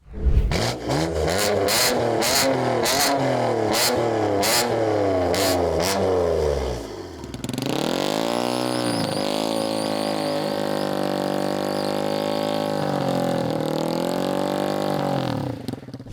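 A powerful car engine revs hard in repeated surges, then settles into a sustained high, rising roar close by.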